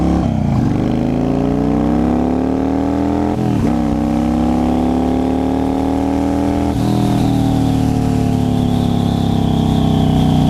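A sport bike engine revs hard and loud through rising and falling sweeps, pausing briefly between throttle blips, with no talking over it.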